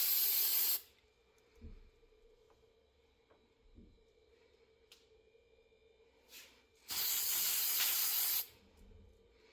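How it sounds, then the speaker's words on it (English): Two loud bursts of spray paint can hiss, one brief at the start and a longer one later, separated by quiet rattles and small clinks, while coating a tumbler cup. "I'm gonna shake this up and I'm gonna spray it"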